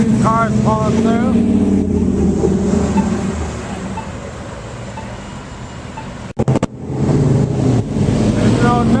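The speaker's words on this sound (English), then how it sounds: "Got a few cars pulling through." Classic cars roll through a car show with a steady, close engine rumble and passing drone, under a voice speaking, then a brief dropout followed by the motors continuing.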